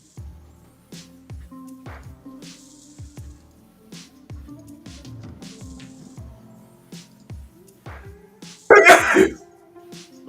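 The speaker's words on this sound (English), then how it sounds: "I noticed you sneezed." A single loud sneeze bursts out near the end, after a stretch of quiet tapping and soft clicks.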